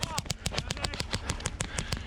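Rapid bursts of airsoft gunfire ring out during a milsim game in Sweden, with loud, close, sharp cracks overlapping in quick irregular volleys while voices shout.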